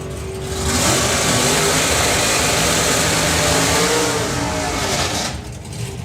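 A drag racing car accelerates hard down the strip at a European drag racing finals event, its engine building to a loud sustained roar for several seconds before fading as it pulls away.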